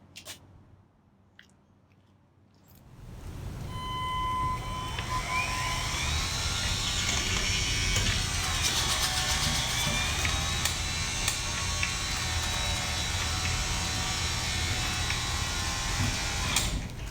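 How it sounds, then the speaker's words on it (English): A caravan mover pushes a Safari Condo Alto R1713 caravan back into a garage, starting after a quiet moment with a loud, steady electric motor whine and gear hum that holds for the rest of the stretch, close by. "now I'm going to take the caravan mover and work it the rest of the way back into my garage."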